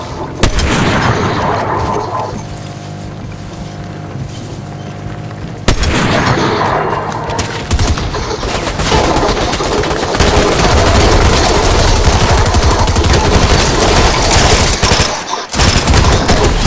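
Video game gunfire roars loudly and almost without a break: rapid automatic bursts mixed with heavy booming blasts, close and dense, with only a brief dip near the end.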